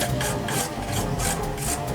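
Sandpaper rubbing rhythmically over the hull of a ship model before it is painted, four or five close, raspy back-and-forth strokes at an even pace with nobody talking.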